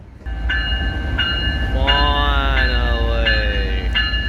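A train horn blares in repeated long blasts over the steady rumble of rail cars rolling past nearby at a road crossing.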